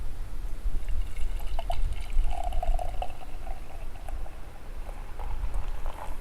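Beer trickles and pours into a glass at a beach, a soft, steady liquid stream over a constant outdoor wash lasting several seconds, with no voices.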